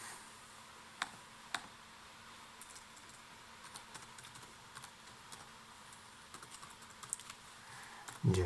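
Password typed on a computer keyboard during a Windows 11 install, heard as sparse, quiet key clicks scattered irregularly across a near-silent room, with a slightly louder knock at the very end.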